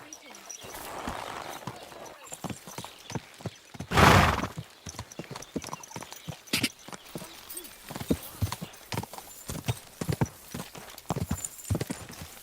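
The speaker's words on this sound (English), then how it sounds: "Wow, what a beautiful horse." Horse hooves clip-clop steadily on the ground in Kingdom Come: Deliverance 2, broken by one loud, sharp neigh near the start, with spoken dialogue over the scene.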